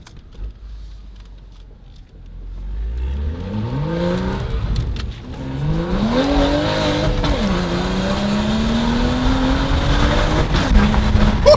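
BMW M235i with a VRSF downpipe revving from idle, a loud engine note climbing and falling through several sweeps with crackling exhaust pops near the end.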